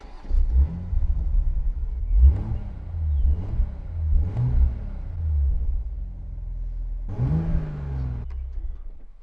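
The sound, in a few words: Toyota Supra Mk5 engine revving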